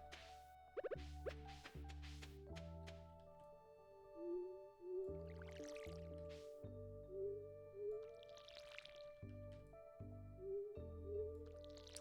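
Crops are watered in the video game Stardew Valley, with repeated watery splash and sprinkle bursts heard among plucky game music and footstep blips. The sound is faint and evenly spaced, with no talking.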